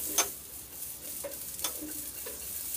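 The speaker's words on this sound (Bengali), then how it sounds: "এবার ঝিঙে বেশ ভালো করে ভেজে নিচ্ছি," Ridge gourd fries in oil with nigella seeds, a soft, quiet sizzle broken by a few light stirring scrapes and taps.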